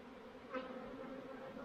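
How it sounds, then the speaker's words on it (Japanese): Swarming Japanese honeybees at a mountain village above 1000 metres produce a faint, steady buzzing drone heard from a distance, with one slightly louder swell as a bee passes closer. "今回、私は幸運にもミツバチの分蜂に出会いました。"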